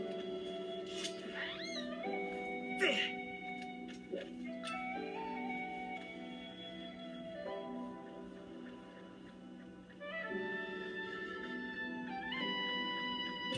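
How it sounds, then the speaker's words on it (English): A cat-like creature in Zelda: Skyward Sword meows and caterwauls repeatedly over layered game music, the cries fairly clear, with long tonal background sounds throughout. "Bad demon kitty, bad."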